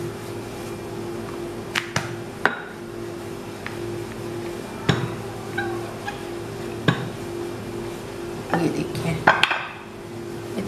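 Pita dough is rolled out on a board, making soft rolling-pin rumbles and scattered clacks and thuds, with occasional light clinks of kitchenware throughout.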